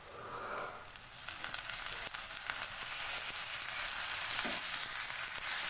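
Chopped onions fry in hot oil with a steady, bright sizzle that swells gradually louder and stays continuous, close up, with no voices.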